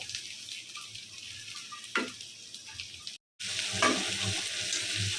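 Spice paste and prawns sizzle steadily in a pan with a few stirring scrapes, a brief break, then the frying hiss resumes, close and moderately loud.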